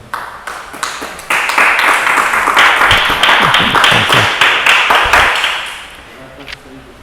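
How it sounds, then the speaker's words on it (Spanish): Church congregation clapping together after a call to applaud the Lord, a dense sustained burst building quickly and fading out over several seconds, with a voice heard near the start. "Vamos a dar un aplauso al Señor"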